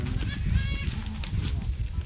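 Goats bleat amid the busy din of a village goat market in Sukhna Ablu, with a wavering nearby bleat over crowd chatter and people talking close by.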